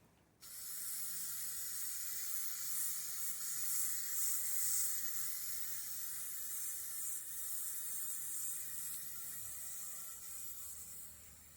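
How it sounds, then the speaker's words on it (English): Spray can hissing a top coat onto a tray table, one steady close hiss starting abruptly and running unbroken to the end, fairly faint overall. "It just gives it a wider spray."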